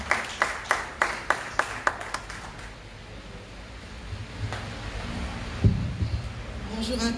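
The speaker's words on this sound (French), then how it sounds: "On applaudit Madame Da Silva, représentante de l'ISM" A small audience at a higher education fair gives a brief round of about a dozen sharp, evenly spaced claps that quickly fade into a low room murmur with faint rustling and movement.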